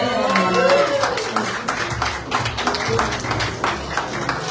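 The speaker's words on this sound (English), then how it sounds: "Let's all clap for him." An audience at the Mister and Miss Supranational 2025 press conference applauds the organization's president, with steady, dense clapping running the whole time while voices carry over it.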